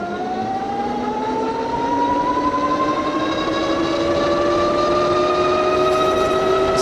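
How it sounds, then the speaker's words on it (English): Tuttio ICT e-bike accelerating on throttle alone, its hub motor whine rising steadily in pitch over a constant rush of wind, loud and close with no voices. "Let me give you guys a quick acceleration run so you can see the acceleration, throttle only."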